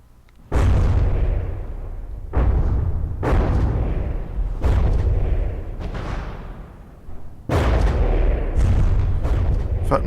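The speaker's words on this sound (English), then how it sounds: "Send off all those lovely torpedoes." Torpedoes firing and detonating in the naval combat game From the Depths, a series of heavy booming blasts with long rumbling tails, about five loud bursts arriving at irregular intervals.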